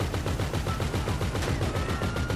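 Rapid bursts of automatic gunfire in the video game GTA V, a dense rhythmic rattle of shots repeating steadily throughout at moderate level, with no talking.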